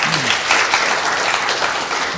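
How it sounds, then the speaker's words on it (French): Audience applause in a café-style show setting, a dense, loud, continuous wash of clapping filling the whole short stretch without a break. "Applaudissements."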